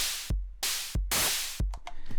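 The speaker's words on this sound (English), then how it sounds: "If you heard that big surge of white noise, that was our hi-hat for now" Closed hi-hat made from white noise on a Dirtywave M8 wave synth: four broad hissing noise bursts, then a quicker run of short ticks, loud and alone.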